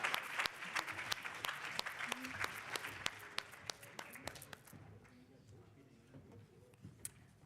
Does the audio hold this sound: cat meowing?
no